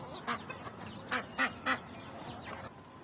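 Farm fowl call in short, bright bursts, three or four clustered squawks in the middle and fainter calls at the edges, fairly close over a quiet yard with no talking.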